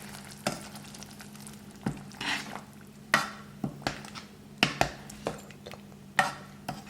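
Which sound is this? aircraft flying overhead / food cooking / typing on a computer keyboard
food cooking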